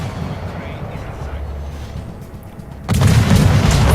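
Heavy naval guns of the destroyer USS Kidd firing in World of Warships, a loud sudden boom near the end that breaks over a low rumbling battle backdrop, the blast then ringing on with dense rumble.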